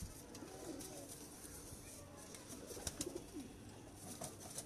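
Teddy pigeons of the Mian Nazeer bloodline coo softly at a distance, low repeated calls over a faint background hum, with occasional brief rustles.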